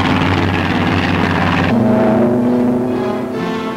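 A WWII-era P-47 Thunderbolt fighter roars on takeoff from a runway, a loud, continuous radial engine drone with propeller hum that shifts in pitch midway, from old archival footage.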